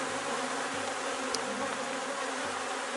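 Honey bees buzz steadily around an open beehive during a colony split, a dense, even hum that stays close and continuous with no talking.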